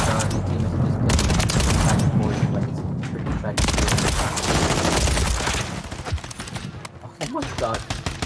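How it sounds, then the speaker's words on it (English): Gunfire in Modern Warfare 3 multiplayer, with loud, close bursts of automatic fire and single shots in quick succession and a few brief gaps, with a voice talking over the shooting. "Why are you guys just shooting me so hard, bro?"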